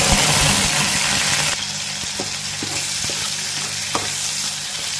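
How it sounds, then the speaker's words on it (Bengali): Prawns fry in a pan with oil, a bright steady sizzle that settles slightly softer after a moment, broken by a few sharp utensil clicks, with a low hum underneath and no speech. "ডিম ভাজা তো শেষ, এখন চিংড়ি মাছটা ভেজে নিই।"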